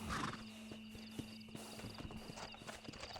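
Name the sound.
horse in the video game Red Dead Redemption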